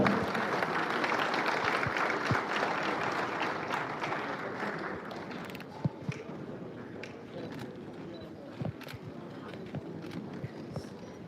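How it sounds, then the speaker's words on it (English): A crowd at a live book launch event in Ghana applauds, loud dense clapping at first that thins into scattered claps and occasional sharp knocks, with a murmur of voices running throughout. "The applause should be louder. It should be louder."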